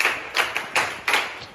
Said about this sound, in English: Go, clap.